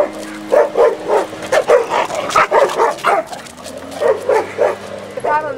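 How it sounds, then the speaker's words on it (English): A dog barks ferociously in a rapid, steady run of loud, close barks and growly yips lasting several seconds, with no other voices present. "Whenever we walk him by another dog, he just starts growling and barking ferociously"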